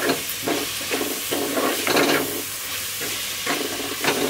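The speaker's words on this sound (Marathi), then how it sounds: "कांदा हा लालसर होईपर्यंत आपल्याला शिजवायचा, परतवायचा आणि शिजवायचा" Onions frying in a clay pot give a loud, continuous sizzle, with rhythmic scraping bursts as they are stirred and turned.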